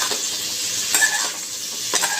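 Paneer stirred in a hot pan makes a close, sizzling scrape, with a few distinct strokes of the spoon over a constant fry hiss.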